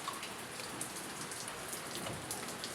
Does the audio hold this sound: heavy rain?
yes